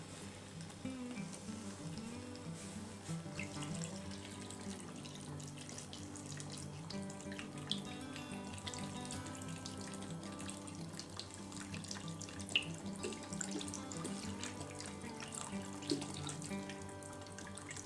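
Water pours steadily from a faucet to cover potatoes in a pot, a continuous close rushing and splashing, with no talking.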